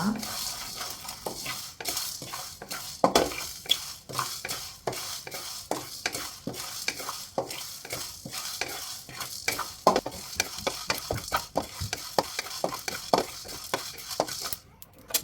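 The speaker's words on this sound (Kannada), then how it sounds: "ಅರ್ಧ ಟೀ ಟೀ ಸ್ಪೂನ್ ಜೀರಿಗೆ ಒಂದು ಟೀ ಸ್ಪೂನು ಕಾಳು ಮೆಣಸು ಇಷ್ಟನ್ನು ಹಾಕಿ ಚೆನ್ನಾಗಿ ಡ್ರೈ ರೋಸ್ಟ್ ಮಾಡುವ" Cumin and black pepper dry-roasting in a pan, stirred with a spoon for a Mangalore-style halwa fish curry: a steady run of scraping and clinking strokes over a soft sizzle, close and fairly loud with no voices.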